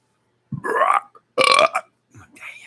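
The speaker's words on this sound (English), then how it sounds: "I almost did a Ted Nugent burp." Two loud, drawn-out belches from a man, roughly a second apart, followed by a softer, trailing vocal tail, all close to the mic.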